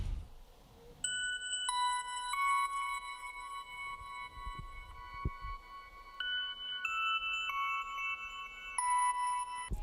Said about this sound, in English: Next, I decided to layer it with a bell from Omnisphere